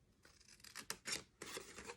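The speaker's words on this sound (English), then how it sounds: "Make sure that you cut the opposite side on each one." Scissors cutting paper card for an explosion box craft, a few quick, close snips and rustles in short bursts, fairly quiet, with no talking.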